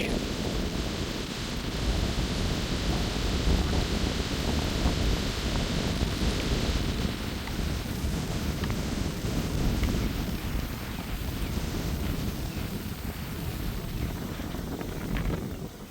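Steady outdoor wind blowing at dusk on a cold evening in Thailand, a loud continuous rushing roar with gusty buffeting of the microphone that lasts throughout, with no clear voices.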